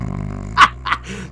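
A dog in the Minecraft video game barks twice, close and fairly loud, the yips short and sharp against a low background hum.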